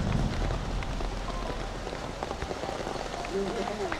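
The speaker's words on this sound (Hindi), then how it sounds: "बारिश आ गया" Heavy rain pours down steadily and loudly throughout, with faint voices in the background.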